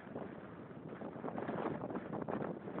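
Steady wind buffets the microphone on a downhill ride outdoors, a dense, fluctuating rush that swells and eases throughout with no voices.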